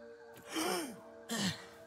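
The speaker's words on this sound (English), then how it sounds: "that freaking gasp is gonna terrify me every time it happens" A sharp, breathy gasp effect from the survival video game Grounded, heard twice, each a short rising intake of breath standing alone against a quiet backdrop.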